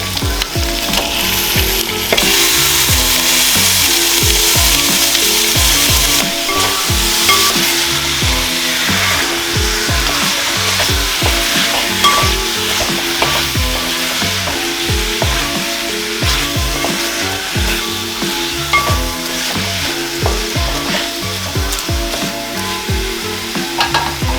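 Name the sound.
chicken being added to a pan and frying for biryani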